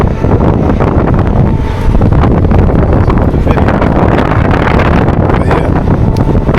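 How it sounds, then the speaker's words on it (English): Strong wind buffets a microphone outdoors beside a parked truck, a continuous loud rumbling roar with little let-up. "this wind probably messing up the mic"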